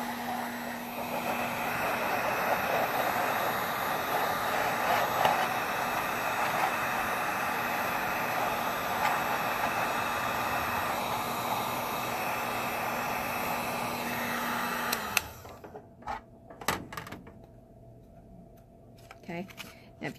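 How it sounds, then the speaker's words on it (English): Hot air blowing steadily onto a plastic tray to soften it into a dollhouse bathtub, a constant broadband whoosh for about fifteen seconds that cuts off abruptly, followed by a few faint handling clicks. "I'm gonna actually heat this tray up just a little bit"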